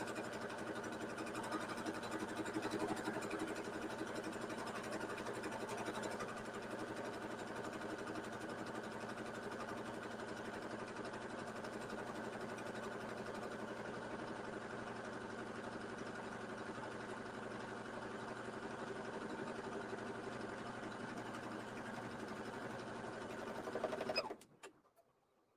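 A sewing machine runs continuously as it stitches fabric pieces together, a steady close motor hum with fast needle chatter that stops abruptly near the end.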